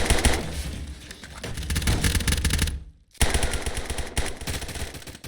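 Rapid automatic gunfire rattles in a competitive tactical shooter match. Dense overlapping bursts play loud and close, break off briefly for a moment, then resume with sustained spray fire.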